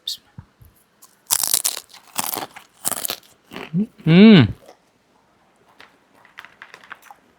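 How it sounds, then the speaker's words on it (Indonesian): Balado-flavoured tanduk banana chips from Makassar being bitten, giving several loud, dry crunches in quick succession, followed by a short voiced sound and a few faint rustles. "Kita tes kriuk dulu. Ini saya coba yang balado."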